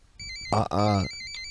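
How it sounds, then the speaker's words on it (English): A phone rings with a high electronic tone pattern, fairly close, and a voice talks around it. "Is that a phone call?"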